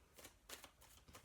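Tarot cards shuffled by hand in a quiet room, a few soft papery riffling bursts in quick succession, close and faint, with no one talking.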